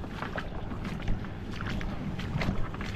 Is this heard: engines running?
yes